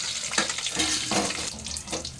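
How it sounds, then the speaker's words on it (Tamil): Black pepper and coriander seeds fry in a little oil for a mutton curry, giving a steady close crackle and sizzle with a few louder bursts and no voices. "கொஞ்சோண்டு எண்ணெய் சேர்த்து அதுக்கு கூட இந்த மிளகை இதில் போட்டு இந்த மல்லியையும் இதுக்கு கூட சேர்த்து வறுக்கணும்."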